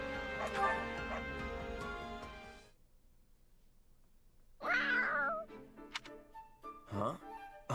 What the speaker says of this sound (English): Oh, it's a cat. Looks like something spooked it.